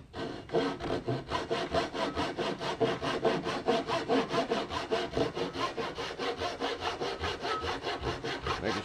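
A hand saw cuts wood for a tenon along a scribe line, making a steady run of quick, even back-and-forth strokes, close and clear with no talking.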